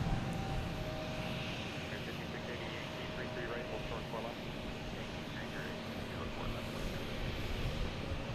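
A JetBlue jet airliner at Boston's Logan Airport, bound for Fort Myers, produces a continuous low engine rumble and roar, moderately distant and steady, with someone talking over it.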